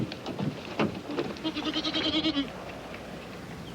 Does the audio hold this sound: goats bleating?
yes